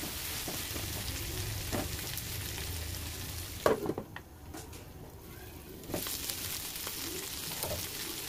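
Eggplant fries in an oiled pan with a dense, crackling sizzle, broken by a few clattering stirs and a short quieter stretch before the sizzle swells again.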